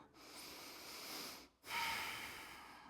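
Two close, audible breaths during a yoga hip-lift hold, a long airy inhale or exhale followed by another after a short pause, with no talking.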